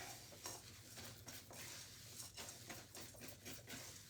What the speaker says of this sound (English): I'm gonna get my spatula. And we're just gonna mix this all together.